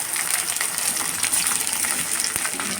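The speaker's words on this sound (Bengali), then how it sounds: "এবার আমরা মশলাটাকে কষিয়ে নেব।" Ground spices, ginger paste and cumin paste frying in oil in a pan for masala chicken give off a steady, close hiss and sizzle that holds level throughout, with no voices.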